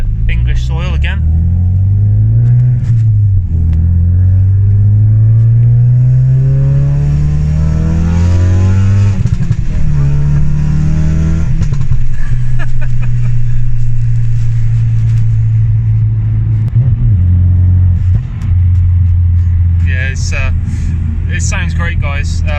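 MK3 RS car with a Simpson race exhaust driving on the road: a loud, continuous engine drone that rises and falls through the gears, with crackling pops on lift-off, heard from inside the car as people talk over it.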